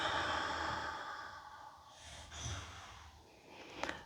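A slow, deep breath exhaled through the nose and mouth during a calm somatic breathing practice, a long soft airy release up close, then a quieter breath and a small click near the end.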